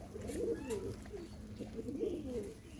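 Pigeon cooing, a domestic bird, in a couple of soft rolling phrases repeated at a moderate distance against a steady outdoor background hum.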